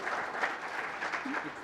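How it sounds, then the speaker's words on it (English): Audience at a marketing convention applauds, a short burst of steady, moderately soft clapping from a crowd heard at some distance, with no voices over it. "So ladies and gentlemen, a round of applause for Shiv."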